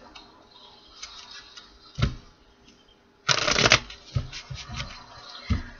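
A tarot deck is shuffled by hand with short, crisp riffling bursts, one long loud flurry in the middle followed by a few quick taps and flicks, close up with no talk.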